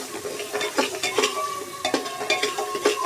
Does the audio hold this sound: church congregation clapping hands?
no